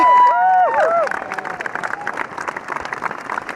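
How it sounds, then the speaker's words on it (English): A large crowd at a world championship gives a subdued, murmuring reaction with scattered clapping, after a short sliding tonal sound at the start. "You can hear the crowd is a little bit disappointed"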